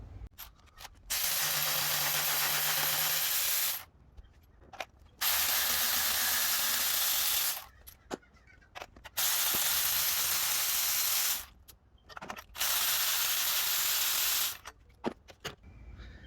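A power ratchet loosening bolts on a 2017 BMW 340i B58 engine during spark plug work runs in four long, loud, hissing whirring bursts, each a few seconds long, separated by quiet gaps and small clicks.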